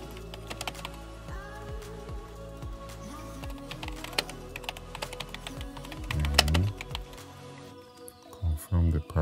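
A password is typed on a computer keyboard as a quiet, uneven run of close key taps, with a person talking faintly in the background.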